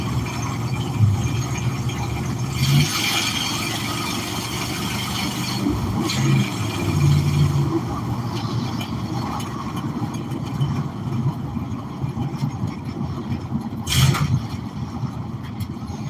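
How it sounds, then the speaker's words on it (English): A car engine idles steadily and loudly throughout, a low constant rumble with brief louder swells. "I don't even know if you guys can hear me over my engine"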